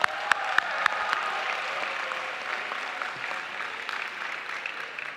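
A large crowd applauds the governor at a university graduation, a broad, steady roar of clapping that holds evenly for several seconds, opening with a few sharp, louder claps nearby.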